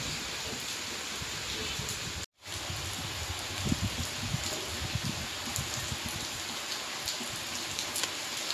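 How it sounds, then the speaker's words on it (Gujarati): Steady rain falls outdoors on a Sharad Purnima night, a dense, even hiss of drops close by that runs throughout, broken only by a brief cut near the start. "તો વરસાદ આવી ગઈ એટલી વારમાં."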